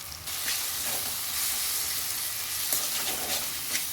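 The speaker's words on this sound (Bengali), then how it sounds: "এবারে সর্ষে পোস্ত বাটাটা দিয়ে দিচ্ছি" Mustard-poppy seed paste frying with okra, chilli and turmeric in a pan: a steady close sizzle and hiss with light stirring scrapes, no talk.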